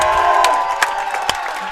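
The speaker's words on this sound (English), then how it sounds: "And just a standing ovation from the crowd." A basketball crowd at a varsity boys game, Millard South vs Benson, on its feet in a standing ovation, with steady loud cheering and whoops filling the gym and a couple of sharper shouts rising above the roar.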